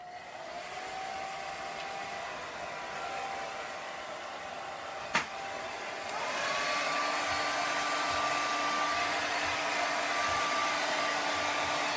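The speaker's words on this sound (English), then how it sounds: "I have a hairdryer out, so sorry about the noise." A handheld hair dryer blows a steady whirring airflow nearby, with a sharp click midway and then a slightly louder, higher-pitched setting that runs on to the end.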